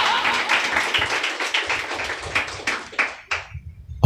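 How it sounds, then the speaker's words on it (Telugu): A congregation at a Sunday church service claps together in a dense, steady patter that thins out toward the end, leaving a few scattered claps and a final tap. "చప్పట్లు కొడతారా?"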